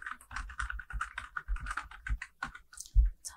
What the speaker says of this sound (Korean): 그럼 이제 타이핑 해볼까요?